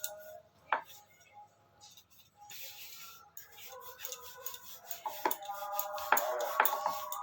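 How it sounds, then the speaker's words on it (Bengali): Egg paratha dough dusted with flour is rolled out with a rolling pin into a roti-sized round, giving soft scattered knocks and clicks that grow busier and louder toward the end, over light kitchen clatter. "আমি ময়দা দিয়ে বেলবো, তোমরা তেল দিয়েও বেলতে পারো"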